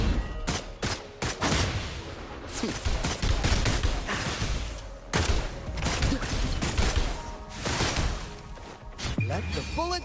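Gunfire in the action game Wuthering Waves, rapid bursts of sharp shots and impacts repeating throughout, mixed with combat effects and character voices.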